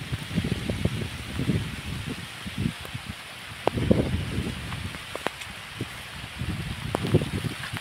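Rain falls steadily on a guava tree and its leaves, a soft continuous hiss with patter and occasional louder drops, alongside low rumbling gusts and leaf rustle.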